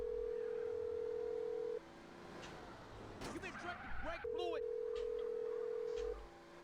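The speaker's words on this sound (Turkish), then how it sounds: "Sivit açmıyor telefonu." A steady ringing phone-call tone in GTA San Andreas plays for about two seconds, stops while talk and game noise fill the middle, then returns for another long, even stretch at moderate level.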